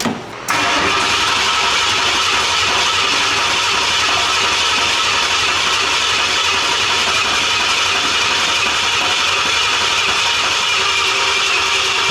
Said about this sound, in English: So let's first of all see if it cranks, see if we got it hooked up.